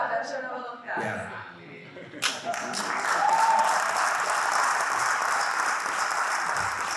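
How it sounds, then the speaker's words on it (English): After a short spoken remark, an audience at a conference session in Seville breaks into sustained, full applause that keeps going to the end. "We wanted a special applause,"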